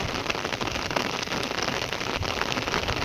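Steady village rain falls hard on a surface, a dense, even hiss of drops with no voices.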